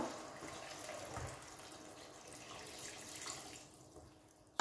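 Water runs quietly and steadily from a tap into a pot for a rice and leek dish, a soft continuous splashing close by with no talking over it.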